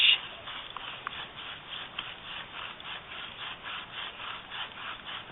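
A wooden bow drill spindle rubs against a wooden fireboard in a steady back-and-forth rhythm, a close, continuous scraping and grinding friction with regular strokes and no talking.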